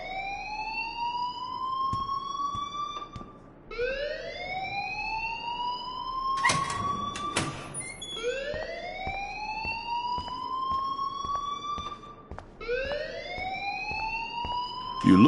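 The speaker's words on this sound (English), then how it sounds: "please turn off that alarm since that's your job" An alarm rings in the video game Life Is Strange, a loud repeating electronic wail that rises in pitch with each cycle, sounding about four times without speech.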